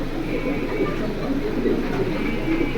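A male pigeon coos repeatedly in a soft, low, rolling rhythm, close by, with a steady background hum and some quiet murmuring.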